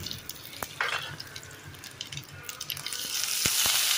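Dried red chillies frying in hot tempering oil give a soft, steady sizzle with scattered sharp crackles and pops that grow denser and louder toward the end.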